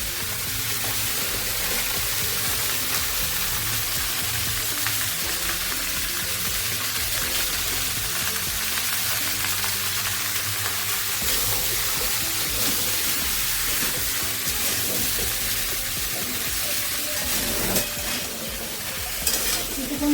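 Vegetables frying in a pan with salt, a steady loud sizzle and crackle of oil under occasional stirring scrapes, close up and continuous.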